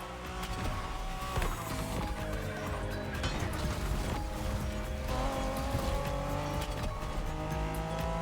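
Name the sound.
BMW Z4 M40i roadster driving in video game The Crew Motorfest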